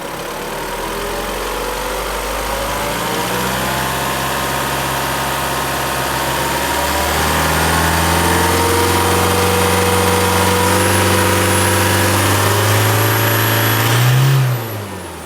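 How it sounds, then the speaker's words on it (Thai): An Isuzu Euro 4 engine with its EGR blocked idles loud and close, a steady rumbling drone that lifts slightly in pitch and level partway through before settling; no talking. "เสียงเครื่องหลังจากที่ ผมได้ทำการอุด EGR เป็นที่เรียบร้อยนะครับ"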